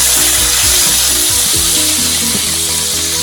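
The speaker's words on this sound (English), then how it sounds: "I'm going to put this mixture in, and I'm going to saute it" A vegetable mixture sautéing in hot oil in a pot that held browned salmon: loud, close, continuous sizzling and crackling with a few stirring knocks, no voices.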